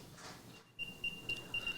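An Apple AirTag plays its find sound: a faint series of short, high electronic chirps repeating in a quick rhythm after a soft rustle, fairly quiet and close.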